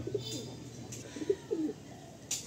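Faint, soft cooing from a Madrasi pigeon in a loft, a few low murmuring calls in a quiet setting.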